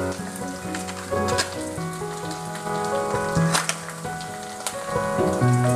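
Shallots and ginger-garlic paste fry for a crab curry, a steady close sizzle with crackling pops running throughout, no talking.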